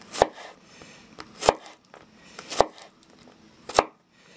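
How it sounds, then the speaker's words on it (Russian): Knife cutting garlic into rings on a board, four sharp chops spaced about a second apart, close and clear with no talk. "Чеснок просто нарезаем колечками."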